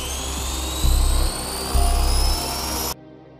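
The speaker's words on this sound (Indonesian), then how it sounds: "Berpindah ke Mike yang sedang memainkan helikopter remote." A remote-controlled toy helicopter whirs with a high, steady motor whine and low rotor throb that surges twice before cutting off abruptly, from a film scene.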